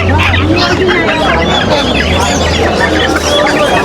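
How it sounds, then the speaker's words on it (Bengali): Sebright chickens cluck steadily at a busy poultry market, close and loud, with a crowd murmuring behind them. "এই একটা মুরগি স্যাপ্রাইট"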